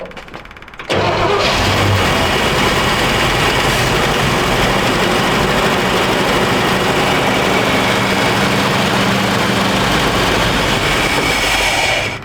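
An old Chevy truck with a fuel-leaking carburetor and a faulty accelerator pump cranks after a second of quiet, catches, and settles into a loud, steady running idle close by, with no voices.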